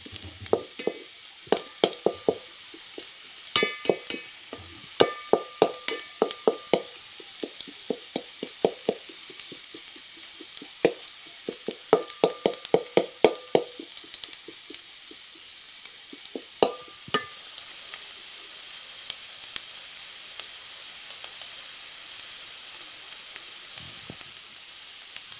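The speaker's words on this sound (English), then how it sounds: "just to ensure that the onions are evenly cooked and they don't get burnt" Onions being stirred in a frying pan while cooking down for homemade ketchup: soft sizzling underneath repeated scraping and clinking strokes of a utensil, in bursts with pauses, close up.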